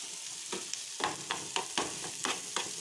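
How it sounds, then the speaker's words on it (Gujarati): Onions fry for dal fry, browning lightly in a pan, a soft sizzle broken by a regular series of scraping stirs, roughly one every few tenths of a second, close and fairly quiet with no voices. "ડુંગળી આપણે થોડી ચડવા દઈશું. લાઇટ બ્રાઉન જેવી થાય ત્યાં સુધી આપણે એને થોડી ચડાવવા દઈએ."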